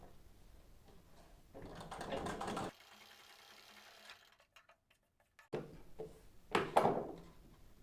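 A sewing machine stitches a sleeveless blouse in two short runs, a soft rapid ticking whir with a quiet pause between them, close and fairly faint, with no talking.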